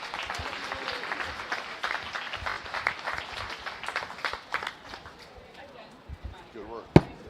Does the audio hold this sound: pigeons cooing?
no